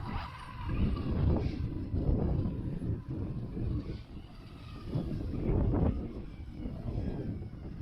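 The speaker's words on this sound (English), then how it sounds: "It is windy." Gusty wind buffets the microphone outdoors during a Traxxas Rustler 4x4 RC car run, a steady loud rushing roar that swells and dips in waves throughout.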